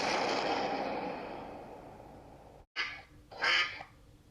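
Two loud nasal duck quacks come close together near the end as a sound effect, following a fading wash of noise and a brief dropout.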